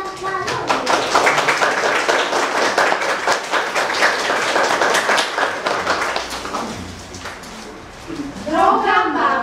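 Loud, dense applause from parents at a children's Mother's and Father's Day show in Ostrołęka, for most of the clip, fading near the end as a voice begins speaking.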